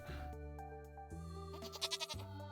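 In Stardew Valley, a goat's bleat rises in a wavering, tremolo cry over gentle in-game farm music, close and clear near the end.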